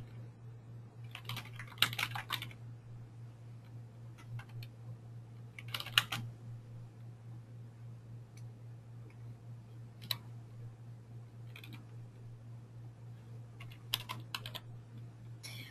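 A name is typed on a computer keyboard in short bursts of quiet key clicks separated by pauses, over a steady low electrical hum.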